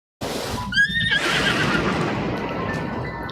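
A horse in Breath of the Wild gives one loud, close, wavering whinny that breaks off abruptly, followed by a shuffling clip-clop of hooves and steady background noise.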